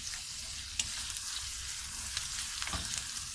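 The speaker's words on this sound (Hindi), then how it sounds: "तो अब हम ये काजू इसमें शामिल कर रहे हैं।" Cashews fry in a pan on medium-to-low heat while cooking butter chicken, giving a steady close sizzle with a few sharp crackles and stirring scrapes throughout.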